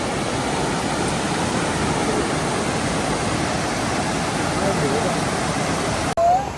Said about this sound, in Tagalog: Ito yung maingay na waterfalls.